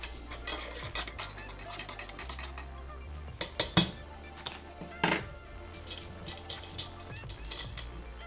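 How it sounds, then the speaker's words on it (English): A spoon clinks and scrapes against a cup while stirring Colombian freeze-dried ration coffee, a series of faint, irregular metallic taps with a few sharper chinks, close by and quiet. "let's give it a stir"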